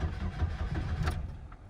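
An Ecotec car engine with candle wax in its oil cranks over heavily in a low, labored churn for under two seconds without catching.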